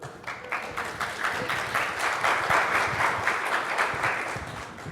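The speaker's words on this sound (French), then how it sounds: "Applaudissez-moi." Audience applause at the Nihon Breizh Festival 2014, a dense, steady burst of clapping from a crowd that holds at an even level for about five seconds, fairly close and without speech.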